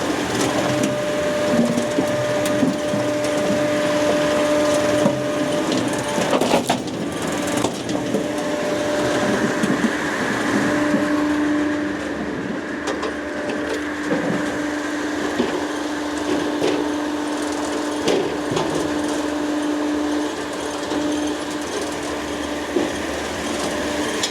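A Palax C751 Smart firewood processor cutting small timber, a loud continuous mechanical roar with grinding and crunching of wood, a sharp crack partway through and a sustained motor tone near the end.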